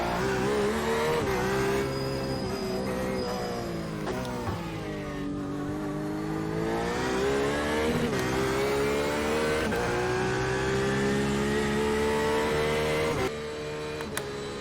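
A Porsche RSR's engine revs steadily in a sim racing game, its pitch climbing through the gears and dropping on each shift, loud and close with no talk over it.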